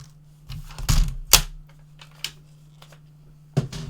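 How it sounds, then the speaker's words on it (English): A paper trimmer slices through black cardstock: a few sharp, close clacks and swishing cuts spaced across a few seconds, over a faint steady background hum, with no talking. "I'm going to cut that off with a trimmer"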